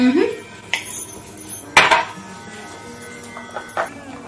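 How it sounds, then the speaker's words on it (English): A whisk clatters against a bowl while yogurt is beaten smooth, giving a few sharp scraping clinks and irregular metallic taps up close, with no talking over them. "put all the yogurt inside and whisk it till it becomes smooth"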